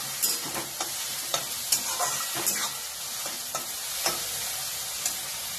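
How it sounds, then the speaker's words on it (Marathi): Onion roasting in a pan for tikhat saanza (upma), sizzling steadily with repeated scraping stir strokes of a spoon, close and moderately loud, no voices. "आता कांदा भाजत आलेला आहे।"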